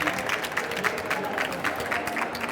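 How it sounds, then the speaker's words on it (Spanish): A crowd claps steadily in a dense, sustained round of applause, moderately loud and fairly close, with no pauses. "Un aplauso a Iván y a Miguel."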